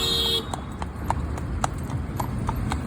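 Rufus the cob's hooves clip-clop on a road while he pulls a carriage, a steady, evenly spaced trot of sharp hoof strikes over low traffic and wind rumble, with a brief tonal sound at the start.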